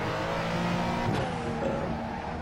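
A modified RUF CTR Yellowbird's turbocharged engine in the racing game Assetto Corsa drones steadily and loudly throughout, with a brief whooshing burst partway through, alone without any talking.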